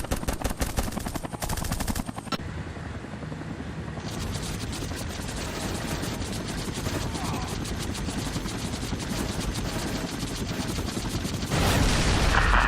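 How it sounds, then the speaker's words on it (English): Dense, continuous machine-gun fire from an aircraft in the Xbox 360 video game Air Conflicts Vietnam rattles steadily throughout, loud and rapid, over engine rumble with a brief voice. "We have to provide cover fire until they establish a defensive perimeter."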